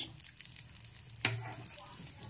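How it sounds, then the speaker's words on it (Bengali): Cashews and raisins dropped into hot ghee, a sudden sizzle bursting in partway through and continuing steadily, close and moderately loud, over a faint low background hum. "রান্নাটা ঘি দিয়েই করছি। দিয়ে দিচ্ছি কাজু, কিশমিশ"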